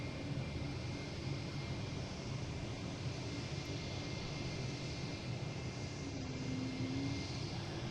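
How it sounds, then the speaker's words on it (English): A JetBlue Airbus A220 airliner arriving from Houston at Boston Logan, a faint steady engine roar with a soft rising whine, distant and continuous without talk. "Next coming in is a JetBlue from Houston, an A220, flight 1632."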